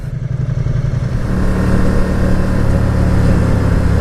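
A 2019 Ducati Diavel 1260S rides along a country road, its engine a loud, close, throbbing rumble that builds from a pulsing idle-like beat into a steady, strong drone with wind noise.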